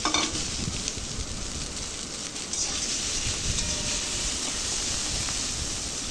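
Rice and vegetables sizzling in hot oil in a pan while being stir-fried, a steady dense crackle and hiss with scraping stirring throughout, close and continuous.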